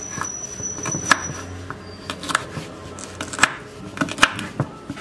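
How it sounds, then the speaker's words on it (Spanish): Green beans being cut with a kitchen knife for a lentil stew: a series of sharp, irregular chopping knocks on a board, close and moderately loud, with no talking. "Vamos a cortar las vainitas."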